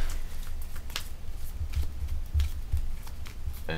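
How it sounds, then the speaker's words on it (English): A deck of playing cards is shuffled close by, giving a soft continuous riffling with small flicking ticks repeated through the few seconds. "I'm shuffling cards while I'm doing this. If you hear that flicking sound, it's a compulsion"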